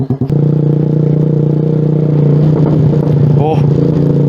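A 2023 Suzuki motorcycle fitted with an SC Project exhaust rumbles at a steady idle after a few sharp blips, with faint pops and crackles near the end while people talk over it.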